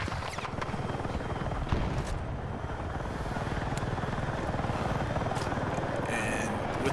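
Attack helicopter flying in Battlefield 6 on the Manhattan Bridge map, a steady loud rotor thump and engine roar running through the whole stretch, with a few sharp bursts and clicks over it.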